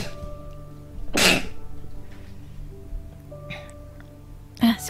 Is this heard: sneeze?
yes